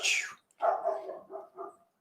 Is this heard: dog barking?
yes